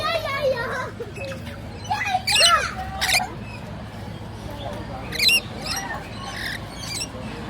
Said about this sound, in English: I'm guessing because this is a parrot enclosure, they're probably parrots